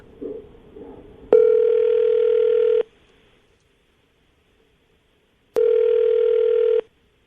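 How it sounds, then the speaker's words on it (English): A landline telephone's steady dial tone sounds in two sustained, loud bursts of about a second and a half each, separated by several seconds of silence, with faint noise before the first burst. "I'm going to dial the phone number, see if we can get her on the phone"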